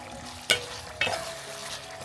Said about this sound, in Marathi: चिकन ॲड केलेलं.